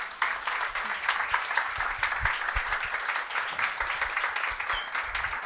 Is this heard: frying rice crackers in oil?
no